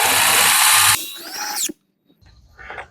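A power drill whirs loudly, then its pitch bends as it drives a screw into a sliding glass door handle and stops; a shorter burst of drilling follows after a brief pause.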